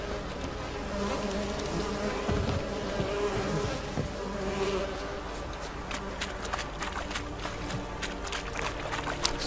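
Flies drone around a swamp in The Witcher 3, a steady close buzz under scattered clicks and rustles, with a voice briefly speaking over it.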